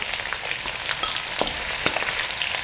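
Shallots stir-frying in oil left over from searing beef, a steady crackling sizzle with occasional scrapes and stirring clicks, close and continuous with no talking.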